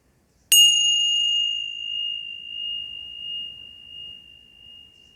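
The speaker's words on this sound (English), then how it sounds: "Follow the sound of this bell all the way back to the stillness." A single meditation bell struck once, a clear bright ring that sustains and slowly fades over several seconds in an otherwise quiet room.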